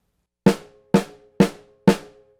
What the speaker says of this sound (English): Then the left hand would be left, right, left, left.